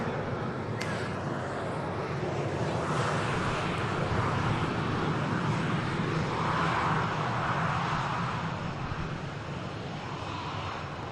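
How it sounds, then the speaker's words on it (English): A Ryanair airliner arriving at Manchester Airport, its engines a steady broadband roar that swells and holds loud and fairly close throughout, with wind-like rushing and no talk. "Next aircraft to arrive, Ryanair coming in"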